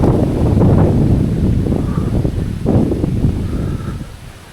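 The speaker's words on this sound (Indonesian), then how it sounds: "Anginnya kencang banget." Strong wind buffets outdoors near a cornfield in a remote Javanese village on Gunung Kemukus, a loud, low, rumbling roar that swells and eases, with no voices.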